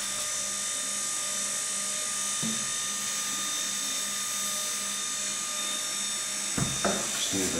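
An electric motor stirs a home-brew beer mash with a steady, droning whine that holds unbroken for several seconds, then a few clunks and rattles come near the end.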